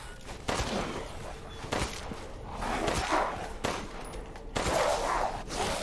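Gunfire from a new weapon in the video game Resident Evil Village, a few loud shots spaced out over several seconds, each a sharp blast over a dense rumbling game backdrop.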